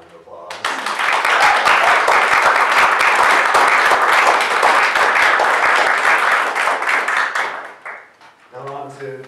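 A full, loud round of audience applause at a poetry reading in a visiting writers series, dense steady clapping from a crowd lasting several seconds before fading, followed by a brief voice.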